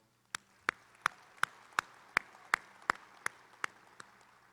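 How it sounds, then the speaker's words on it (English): Slow, evenly spaced claps from a small group of staff at a corporate town hall, about a dozen sharp hits roughly a third of a second apart, distinct and fairly close. "please give yourselves a round of applause"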